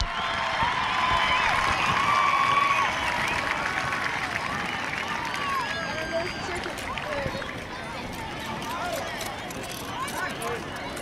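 At a high school football game, a stadium crowd cheers and claps loudly for a halftime dance team, the roar fading gradually as an announcer's amplified voice carries over it.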